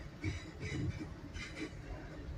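A GWR Class 800 train pulls into Redruth station, heard from inside the carriage as a steady low rumble with rhythmic wheel clatter and soft mechanical whine.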